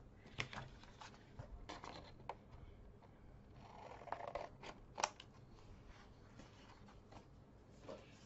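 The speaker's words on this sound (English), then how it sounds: "I'm just gonna use my scissors, and I'm just going to cut it straight" Scissors cutting straight through paper while making a folio, a series of quiet, close snips and crisp crunching cuts in uneven bursts, with a louder snip near the middle and no speech.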